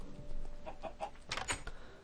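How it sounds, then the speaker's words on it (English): Minecraft chickens cluck in short, bright bursts over a steady game background, a few quick clucks bunched near the end, moderately loud with no talking. "Chicken?"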